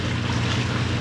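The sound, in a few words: sailboat engine running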